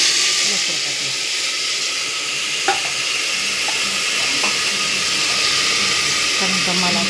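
Lentils tipped into a hot pan of fried onions hiss and sizzle steadily and close by, with a few small clinks of a spoon as they are stirred.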